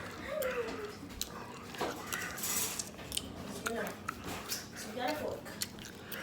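A metal fork clinks and scrapes against a dish of microwaved eggs in a home kitchen, light irregular taps and scrapes repeating under steady close conversation.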